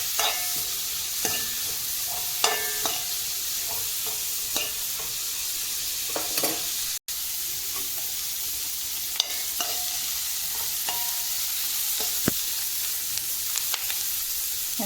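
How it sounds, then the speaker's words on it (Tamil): Onions sizzle and crackle in a hot pan as they fry until golden, with occasional scraping clicks of a spoon stirring, steady and close. "வெங்காயம் பொன்னிறம் ஆகிற வரைக்கும் நல்லா வதக்கிக்கோங்க"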